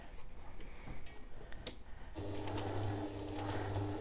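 A sewing machine stitches a small sew-in label inside a zippered fabric pouch, its motor starting partway through with a steady, close whirring hum that runs to the end after a quiet stretch of faint handling noise.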